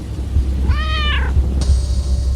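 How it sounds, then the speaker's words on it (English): In an animated horror story, a cat gives a single clear meow in a room over a low steady hum, followed by a sustained high tone. "turned startled to a meow of a cat in the room"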